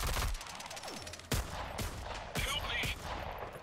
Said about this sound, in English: Let's use this. It's tactical shotgun.